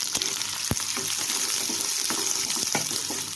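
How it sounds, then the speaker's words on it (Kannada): Small-cut onions frying in hot oil, a steady bright sizzle with a few sharp knocks of a spoon stirring the pan, close and continuous with no talk. "ಈರುಳ್ಳಿ ಚೆನ್ನಾಗಿ ಫ್ರೈ ಆಗಬೇಕು"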